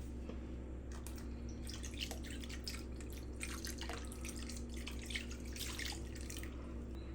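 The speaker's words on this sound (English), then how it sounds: "We're gonna do 2 cups of water right there" Two cups of water poured from a measuring cup into a slow cooker for an oxtail recipe, a steady trickling splash lasting several seconds, fairly faint, without talk.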